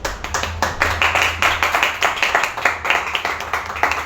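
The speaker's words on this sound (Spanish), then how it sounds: "levántense y los aplaudimos desde acá" An audience claps for storytellers at a live storytelling event, with distinct close hand claps repeating in a quick, uneven rhythm, loud and near, mixed with wider applause.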